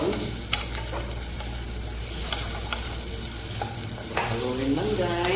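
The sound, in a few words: garlic and onion frying and being stirred in pan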